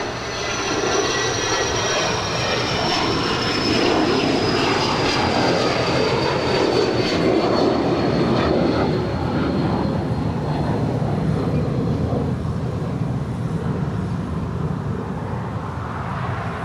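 A 27-year-old Boeing 777-200, the first 777 ever delivered, at Los Angeles International Airport: sustained loud jet engine roar with a high whine gliding slowly downward, steady throughout.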